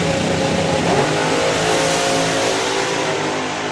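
Twin-turbo big-block drag racing car launching hard at a European drag racing finals, its engine roaring loud and close with a dense, continuous rasp that holds steady throughout.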